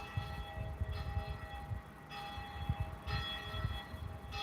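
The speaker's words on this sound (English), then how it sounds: "Catholic Church next to me. If you guys could see that, they're ringing a bell." A Catholic church bell rings out from nearby in an empty parking lot, its strokes coming at steady intervals with a long ringing hum between them over low rumbling background noise.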